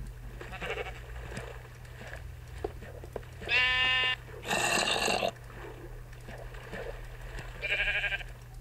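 Several loud sheep bleats in Minecraft Beta 1.9 in short bursts, one after another, over a steady low hum.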